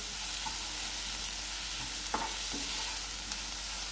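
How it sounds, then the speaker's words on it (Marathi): Garlic, ginger and green chili paste sautéing in a pan, a constant hissing sizzle with a few sharp spatula scrapes, close and fairly loud, no voices. "आपण जे लसूण, आलं आणि मिरचीचं वाटण करून घेतलं ते पण टाकून घेणार आहोत. ते पण परतून घेणार आहोत."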